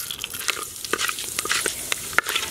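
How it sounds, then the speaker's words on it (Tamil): Fenugreek seeds crackle and sizzle in hot oil with steady popping spatters and the occasional scrape of stirring, close up. "எண்ணெய் சூடாயிட்டு இப்போ வந்து வெந்தயம் சேர்த்துக்கலாம்"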